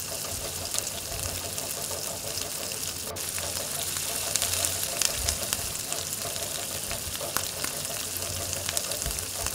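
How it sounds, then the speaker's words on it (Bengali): Prawns deep frying one or two at a time in hot oil in a small wok in a mini kitchen, giving a steady, close crackling sizzle that runs throughout with scattered louder pops and no talk. "ভালোভাবে তেলটা গরম হয়ে গেলে একটা একটা করে আমি এখানে ভেজে নেব।"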